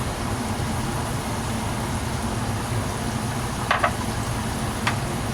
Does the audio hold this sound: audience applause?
no